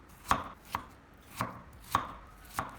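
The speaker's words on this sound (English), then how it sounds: "Place the tomatoes on a cutting board and slice them as needed for your dish." Knife slicing peeled tomatoes on a cutting board, five evenly spaced sharp chops with a steady rhythm, close and clear with no talking.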